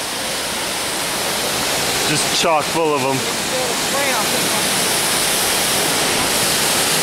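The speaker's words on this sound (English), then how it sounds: "this is another waterfall." A waterfall in the Columbia Gorge roars close by as a constant, loud broadband rush, with people speaking briefly over it partway through.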